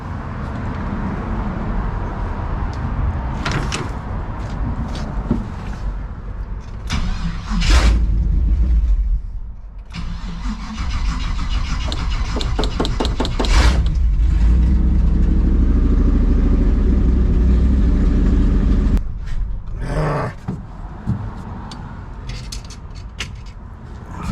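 A 1968 Chevy Suburban engine runs near, with a low rumble that steps up louder as the idle rises, broken by clanks, clicks and a few short sharp knocks around the truck.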